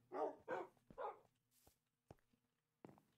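Dogs in Minecraft give three quick barks in a row, then a few faint clicks and taps, one more bark near the end, all soft and close with no talking.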